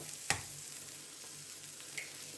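Village eggs cracked into a hot pan, a sharp crack at the start and a small tap later, followed by a quiet steady sizzle of frying.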